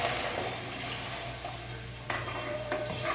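Batter is poured into hot oil with crackling cumin seeds, giving a steady close sizzle with a sharp clink partway through.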